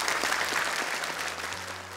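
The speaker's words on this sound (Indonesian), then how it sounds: "Tepuk tangan untuk Desova." An audience at a children's Quran recitation event breaks into steady applause, a dense patter of many hands clapping at moderate level, with a low hum running beneath.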